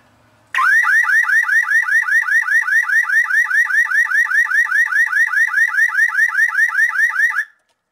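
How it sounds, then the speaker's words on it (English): A car alarm triggered by grounding its wire with a jumper blares suddenly and loudly, a fast repeating rising electronic whoop that keeps pulsing for about seven seconds before cutting off abruptly. "The alarm's armed now, so if I ground this, it should go off."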